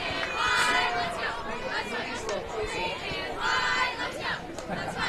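Crowd at a high school varsity football playoff game, Class A first round, between Gehlen Catholic and St. Albert, with a steady roar of chatter and cheering from spectators in the stands that swells and fades under a commentator's voice.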